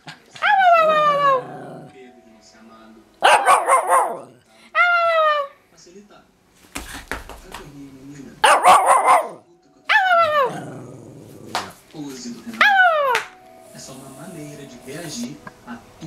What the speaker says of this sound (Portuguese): Late, late pra mamãe.